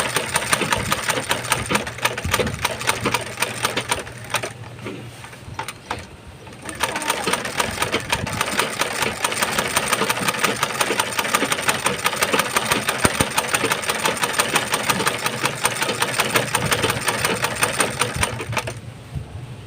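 A sewing machine stitches a leather sandal strap with a fast, steady mechanical chatter that runs almost continuously, pausing briefly partway through before resuming.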